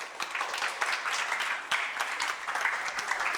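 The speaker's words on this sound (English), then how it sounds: "Let's clap for them." A burst of applause from a crowd, steady clapping that carries through the whole moment without pause.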